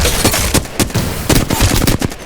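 Automatic weapons fire in the video game Apex Legends, with rapid, loud bursts of gunshots in quick succession and short gaps between volleys, heard alone with no talking.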